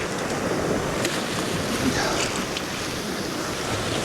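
Sea surf on the Holderness coast makes a continuous broadband wash of breaking waves with wind noise on the microphone. It is moderately loud and steady, and no voices are heard.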